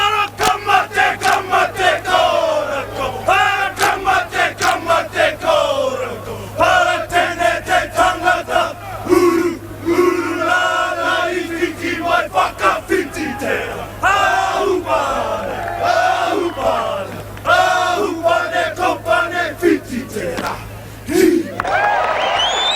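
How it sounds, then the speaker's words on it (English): Maori haka war dance performed before a New Zealand versus Great Britain rugby league match at Palmerston North Showgrounds, with loud rhythmic chanted shouts and stamps from the performers and a partisan crowd roaring and cheering around them. "a Maori war dance called the haka"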